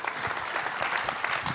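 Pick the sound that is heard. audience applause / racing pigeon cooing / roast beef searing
audience applause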